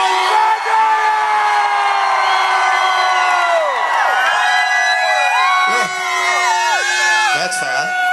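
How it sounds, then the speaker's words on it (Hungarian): A big concert crowd at a New Year's Eve show in Székesfehérvár cheers, whoops and shouts loudly, with many voices rising and falling together in a sustained roar. "csináltunk majd ilyen borzasztó nagy zajt, tapsot, kiabálást"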